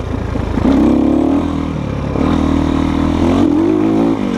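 A Geon Terrax 250 motorcycle with a poorly tuned carburetor, its engine revving loud and close in two long surges of throttle that rise and hold uneven, then drop back to a rough idle.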